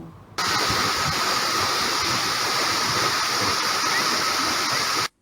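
Tad Kaeng Yui waterfall in Vang Vieng, Laos, roars in a constant, dense rush of falling water that starts abruptly and continues steadily, loud and close.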